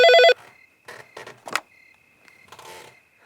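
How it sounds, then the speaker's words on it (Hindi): A telephone rings at night with one short, loud burst of bright, layered ringing tones at the start, then stops. A faint steady hum and scattered soft clatter follow. "इतनी रात को फोन कौन कर रहा है?"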